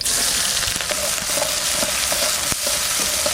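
Onion fries in mustard oil in a kadai with a dense, loud sizzle and crackle, broken by repeated stirring clinks and scrapes. The sound is close and steady, with no talking.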